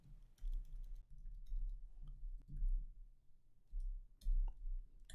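Clicky bursts of typing on a computer keyboard while writing JavaScript code, irregular runs of keystrokes with short pauses, close and fairly quiet.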